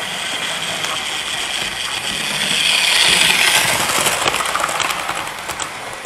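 A steady mechanical whir with faint clicking and rattling, swelling slightly louder midway, like a small motor running along a track close by.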